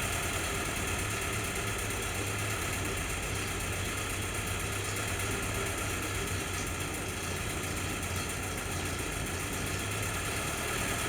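The engine of an M38A1 jeep idles and surges, a loud, continuous close rumble with steady vibration and no talk.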